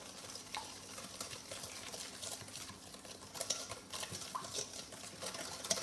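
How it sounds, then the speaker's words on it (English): Stirring sugar into wet ingredients for banana plantain bread: a soft continuous scraping and swishing of a utensil in a bowl, close and steady, with occasional light clinks and no talking. "And I'm just going to go ahead and mix this a little bit."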